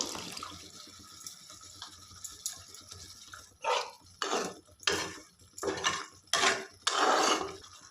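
The remaining water is poured into a cooking pot of chicken vorta, landing in a series of splashing bursts after a quiet kitchen stretch with faint clinks.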